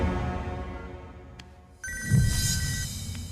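A telephone rings in a Hindi movie scene, its repeating electronic tone cutting in sharply over a low background score and continuing clearly for the last second and a half.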